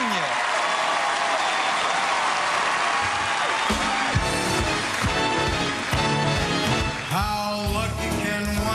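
A theatre audience at a televised talent show final cheers and applauds loudly for a Rat Pack–style crooner from Logan, West Virginia, a dense continuous roar of clapping and whoops as music begins underneath.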